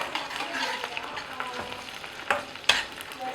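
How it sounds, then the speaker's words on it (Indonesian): Spices frying in hot oil for a fern vegetable dish, a steady close sizzle with scattered crackles and a couple of sharp utensil clinks near the end; no talking. "tuangkan ya ke minyak yang sudah panas. Kita gongso, kita tumis ya"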